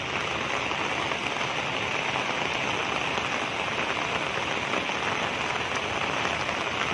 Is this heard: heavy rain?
yes